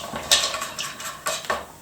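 A brush works Zinsser B.I.N. primer straight from the pot, making a few close, sharp clinks and knocks against the rim in a short irregular series, with no voices.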